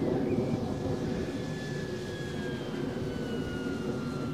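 Engine of a Hawker Hurricane IIc fighter in a flight video game, a steady droning roar with faint gliding whine tones, no speech over it.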